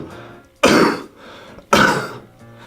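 Two sharp, loud coughs close to the microphone, about a second apart, each a harsh burst that trails off.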